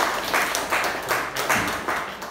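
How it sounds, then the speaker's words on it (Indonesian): Classroom audience of teachers claps for a teacher after an open mathematics class, a few rhythmic bursts of clapping pulsing at a steady beat, moderately near and fairly soft. "tepuk tangan untuk Bu Is."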